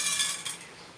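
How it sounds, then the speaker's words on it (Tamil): Chana dal tipped into hot oil in a pan, a brief close hiss and crackle with a light clatter of the lentils landing. "இப்போ வந்து நம்ம கடலைப்பருப்பு போட்டுக்கலாம்"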